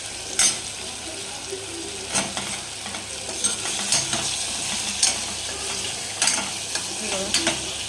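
Stuffed brinjals frying in oil in a pan with soft tomatoes, a steady close sizzle broken by repeated scraping clinks of a utensil as the pieces are turned over.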